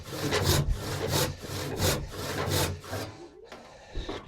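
A handsaw cuts through a section of a glued-up wooden workbench stretcher in steady back-and-forth rasping strokes, close and loud. The sawing stops briefly near the end before resuming.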